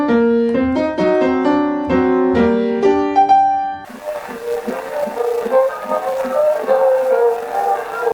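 Piano plays a transcribed Brahms improvisation, first as clear, close chords and repeated notes, then giving way to a noisy, hissy passage with muffled notes underneath.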